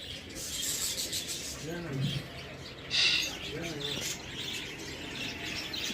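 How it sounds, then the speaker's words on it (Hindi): Colourful birds in aviary cages give scattered chirps and soft cooing amid rustling, a brief sharp tweet standing out near the middle, with indistinct voices mixed in. "चिड़िया, जो अलग अलग कलर की हैं।"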